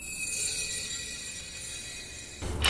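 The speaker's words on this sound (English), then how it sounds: "that's the sound of the little metal sensor touching the rotor" A brake pad wear sensor scrapes against the rotor on a vehicle lifted off the ground, a continuous thin metallic hiss and squeal held steadily, with a brief louder burst at the end.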